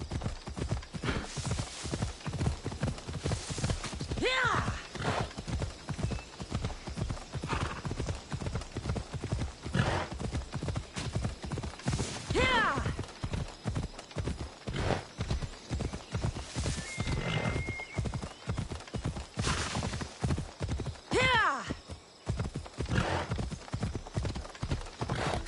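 Horse Phobos galloping in Assassin's Creed Odyssey, a steady rapid clip-clop of hooves running throughout, close and loud, with a few whinnies and faint game sounds mixed in.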